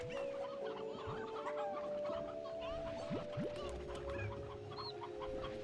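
Hens cluck in the Slime Rancher video game, with several overlapping soft clucks and rising calls repeating steadily at close range over a low background hum, with no talking.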